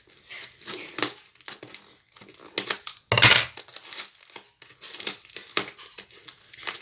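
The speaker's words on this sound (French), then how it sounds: "Donc j'ouvre les colis." A parcel is opened by hand, its packaging crinkling and tearing in close, irregular bursts, with one louder rip partway through and no talking.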